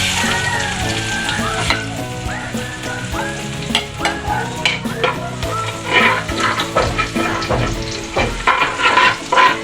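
Garlic sizzling loudly as it sautés in a pan, the first step of a pancit bihon canton, with steady frying crackle and occasional stirring clatter close by and no voices.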